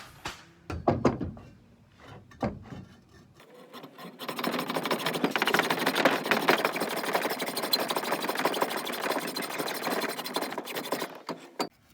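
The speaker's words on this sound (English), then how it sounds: "I'm gonna start with a handsaw, make sure it goes in straight" A handsaw cuts grooves into a steel exhaust downpipe. A few scattered knocks come first, then a steady, faint back-and-forth rasp of the blade biting metal.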